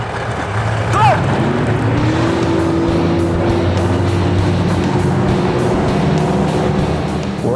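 Several bass fishing boat outboard engines rev and drone together at a tournament blastoff on the water, a steady loud roar with a rising engine whine, a brief whoop and cheer near the start and faint voices underneath.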